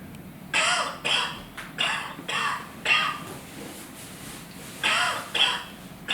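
A series of short, harsh coughs in irregular bursts, about eight, played through an iPhone speaker with a thin, tinny quality.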